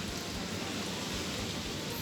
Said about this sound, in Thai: ฝนน่าจะตกอะโอ้โห ตกจริงด้วย